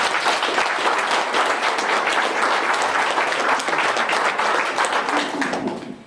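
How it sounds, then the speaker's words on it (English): An audience gives sustained applause for volunteers at a civic event opened by a mayor, dense clapping that holds loud and even before fading at the end. "So I'd like to take this moment as a round of applause for all the people that help."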